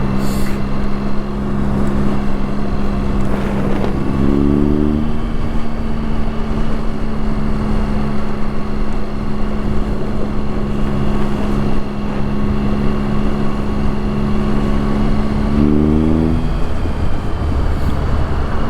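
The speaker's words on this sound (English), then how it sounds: "I love that burble, the burble of my triple" A three-cylinder Triumph Street Triple motorcycle engine burbles at a steady idle, loud and close. It gives a continuous low throb, and the pitch rises briefly twice as the throttle is blipped.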